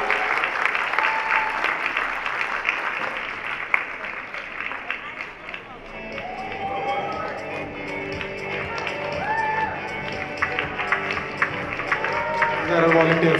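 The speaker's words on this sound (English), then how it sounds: "please give a big round of applause for all our youth volunteer team for the fashion show" Audience applause at a youth fashion show: a dense crowd clapping loudly for several seconds, easing as a voice speaks over the continuing claps and murmur.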